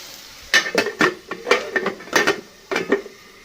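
A lid goes onto a pan of frying potatoes with a quick series of metallic clanks and rattles, several bright knocks clustered together, then a final pair after a short pause, over a faint background sizzle.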